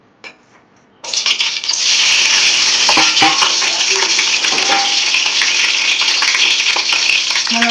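Chopped onions and green chillies hit hot oil for a tempering and sizzle loudly and steadily, a bright crackling hiss that starts abruptly and keeps going, with a few faint stirring clinks.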